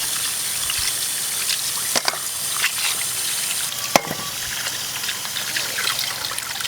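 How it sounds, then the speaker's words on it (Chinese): Lamb leg and lamb feet being rinsed under running water, a steady broadband splashing and trickling wash that carries on throughout, with a couple of sharp knocks as the meat shifts. "大羊腿、羊脚，再去冲一下水，冲洗一下干净一点啊。"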